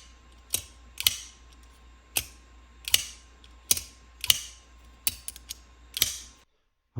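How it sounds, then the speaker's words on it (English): A Kizer Sheepdog folding knife with a clutch lock is snapped open and shut repeatedly, giving about eight crisp, close mechanical clicks and snaps at irregular intervals, loud against near silence, with no speech. "you get plenty of leverage against that clutch lock mechanism, and you're able to really just snap it open"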